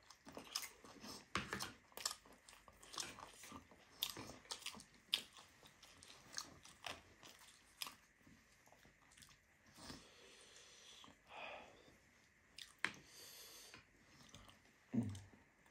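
Someone eating spicy Nepali chatpate street food at night, with crunchy bites and chewing close to the mic in an irregular run of crisp crackles and clicks, no talking.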